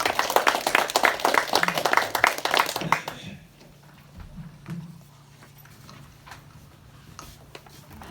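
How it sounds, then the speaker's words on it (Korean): An audience claps warmly for an invited speaker at a Korean lecture on filial piety and philosophy, a dense burst of applause lasting about three seconds before it falls away into a quiet room with faint scattered sounds. "뜨거운 박수로 부탁드리겠습니다"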